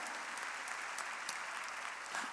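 Steady applause from a church congregation during a worship service, a dense, even wash of clapping held at moderate distance throughout, with no voices.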